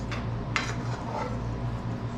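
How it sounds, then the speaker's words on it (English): Chopped vegetables and tomato paste are tossed into a pan while cooking Polish paprykarz fish pâté, giving a few light clinks and clatters of cookware over a steady low kitchen hum. "Now, let's toss our veggies and tomato paste in there."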